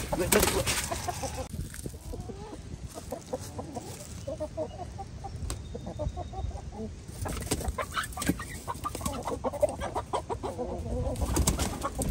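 Several chickens cluck and murmur close by in an irregular, busy chatter, with occasional louder squawks and a voice speaking briefly.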